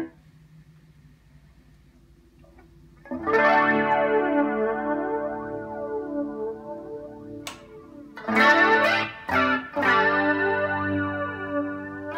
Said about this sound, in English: Obviously the flanger sound.